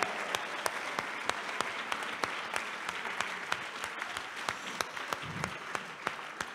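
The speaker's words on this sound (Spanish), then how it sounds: "Alguien dele un aplauso al Rey de la Gloria." A church crowd claps steadily and briskly for several seconds, with individual claps ringing out sharply above the dense applause.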